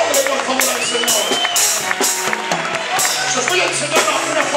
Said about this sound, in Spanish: Apláudele por favor al Señor.